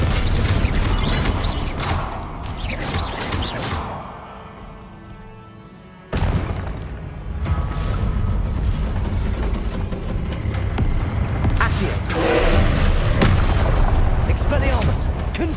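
Fiery spell blasts and booming impacts in a Hogwarts Legacy boss fight, loud and dense with repeated bursts, a quieter lull midway, then renewed rumbling explosions under spoken spell names.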